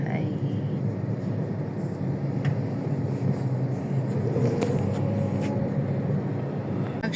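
A jeepney and other vehicles roll past a house on a shortcut road, a steady rumble of engines and tyres close by. A voice talks over the traffic throughout.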